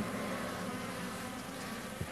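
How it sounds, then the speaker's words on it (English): Honeybees droning around an open hive in early February, a steady low buzz held throughout, close and moderately loud, with no talk. "The bees are antsy."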